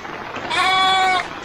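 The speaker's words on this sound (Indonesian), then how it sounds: "Saya melihat dombanya." Sheep bleating in a rural Indonesian village, a single clear, close, wavering bleat lasting under a second over faint background noise.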